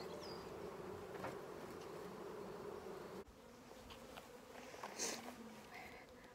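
Bees buzz steadily around an open beehive during an inspection, a continuous moderately loud drone with individual insects passing close, and no talking.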